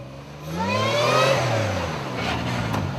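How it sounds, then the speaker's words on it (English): A supercharged truck with a Flowmaster exhaust revs hard and bounces off its rev limiter, a rising engine roar with a choppy, stuttering note at the top, loud and close. "it's a mixture of the Flowmaster exhaust, the supercharger, plus the rev limiter getting bounced off of"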